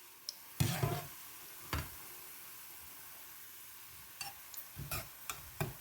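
Boondi frying in hot oil for laddu, a soft steady sizzle broken by scattered metallic clinks and scrapes of a ladle stirring in the pan.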